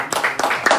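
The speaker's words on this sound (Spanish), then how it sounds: "Un fuerte aplauso para ellos" A few quick hand claps from an audience at a sports team press conference in a hospital setting, close and fairly loud, with a voice speaking over them.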